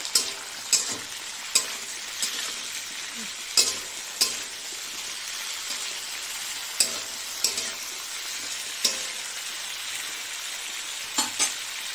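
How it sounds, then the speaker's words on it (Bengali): Potatoes, beans and tomatoes fry in a pan under a low hiss while a utensil stirs them, making sharp scraping knocks at irregular intervals, close and fairly quiet, with no talking. "একটু নেড়ে চেড়ে নিই"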